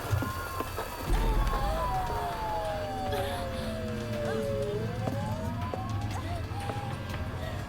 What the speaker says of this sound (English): Police sirens?